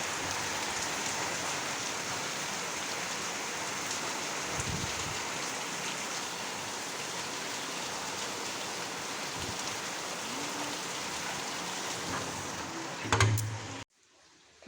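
Heavy rain falling, a dense, even roar of drops on surfaces that continues unbroken, with a couple of faint knocks and a short thump near the end before it cuts off.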